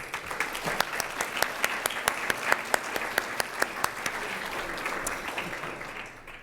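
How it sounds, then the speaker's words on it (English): Guests at a law school alumni and faculty luncheon give a round of applause. Scattered sharp individual claps stand out of the steady clapping, and the applause tapers off over the last second. "Please join me in a round of applause for our generous sponsors."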